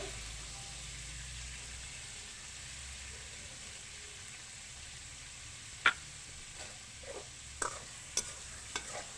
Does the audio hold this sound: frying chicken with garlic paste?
yes